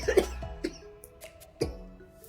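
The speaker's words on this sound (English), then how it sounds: "So I'm getting so excited, I'm coughing." Several short, harsh coughs close by, spaced unevenly with quiet breathing and a bit of throat clearing between them.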